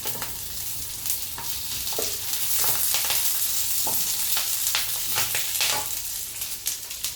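A spoonful of ghee sizzles steadily in a hot pan while making masala corn, with a dense hiss and scattered sharp crackles and pops, close and loud throughout with no voices.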